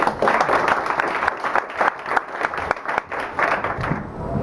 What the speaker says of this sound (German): Bitte einen herzlichen Applaus.